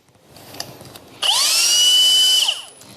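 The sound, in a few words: Hilti SF4 drill-driver drilling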